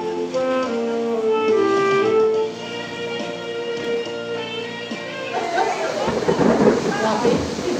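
Strong thunderstorm with heavy rain at an outdoor poetry reading beside a library in Līvāni, Latvia: a long loud rolling rumble of thunder gives way to dense, close rain pattering on surfaces, with no talk.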